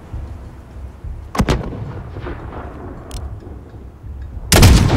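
Enemy gunfire in the Call of Duty Modern Warfare video game cracks out in a few sharp, loud shots, including a close double report and a heavy blast at the end, over a low rumbling battlefield backdrop.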